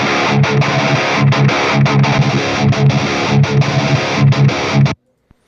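A heavily distorted metal electric guitar tone shaped with EQ in Bias FX plays in tight, chugging palm-muted riffs with short rhythmic gaps. It is loud and alone, then cuts off abruptly near the end.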